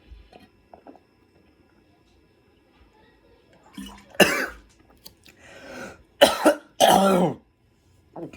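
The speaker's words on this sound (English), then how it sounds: "Almost choked on water." A person coughs hard and clears their throat after almost choking on water, a few rough bursts close to the microphone following quiet swallowing and breathing sounds.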